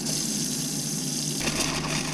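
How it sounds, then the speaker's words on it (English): A Roadtrek Zion SRT camper van's onboard water pump hums steadily while the cold water tap runs, a continuous rushing flow with a low drone, close and even throughout. "Now the pump's on, so we're gonna have to turn cold water on until we see pink."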